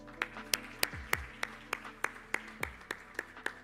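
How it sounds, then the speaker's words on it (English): Sparse, slow claps ring out one by one at a conference plenary session, about a dozen distinct hand claps in an irregular rhythm. A faint low hum sits underneath. "Can we clap once more?"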